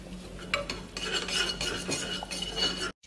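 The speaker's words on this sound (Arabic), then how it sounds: "نحمس الثوم بالسمن لين تطلع ريحته قبل لا يتغير لونه" Garlic frying in ghee in a pan, a busy close-up clatter of a spoon stirring and scraping the pan over a faint sizzle, continuous until a brief cutoff at the end.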